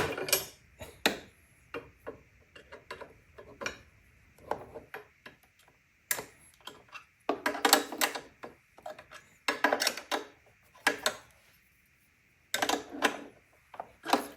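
Ratcheting wrench tightening engine guard bolts on a 2020 Honda Goldwing Tour DCT, with repeated bursts of quick metallic clicks separated by short pauses, close and fairly loud.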